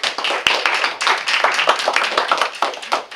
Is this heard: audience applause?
yes